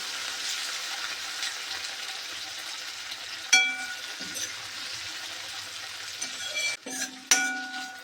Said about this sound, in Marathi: त्यामध्ये टाकूया टमाटर, टमाटर छान फिरवून घ्यायचं.